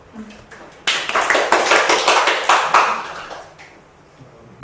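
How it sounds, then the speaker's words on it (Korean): Applause breaks out at a Sunday dharma service in a Buddhist seon center: a dense burst of many hands clapping starts abruptly, holds steady for about three seconds, then thins and fades to quiet. "박수"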